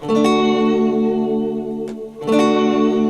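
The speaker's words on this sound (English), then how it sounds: "The reverb is an octave higher than the notes that I'm playing" Sustained guitar notes through an octave-up reverb pedal ring with a shimmering reverb tail an octave above them, swelling and decaying before a new chord is struck.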